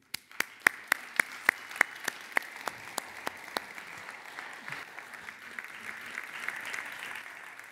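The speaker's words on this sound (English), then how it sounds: "I would appreciate if we give a round of warm applause for what they achieve" Audience applause at a YotaPhone 2 smartphone launch event begins with loud, evenly spaced single claps near the microphone, then swells into a dense round of clapping from the crowd.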